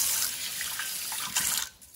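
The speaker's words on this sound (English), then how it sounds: "So let's add some water." Water splashes and pours into a cast iron pan in a short, close, bright rush that ends abruptly after about a second and a half.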